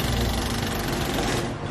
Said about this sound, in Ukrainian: він настільки ж гучний, як, наприклад, шум від роботи відбійного молотка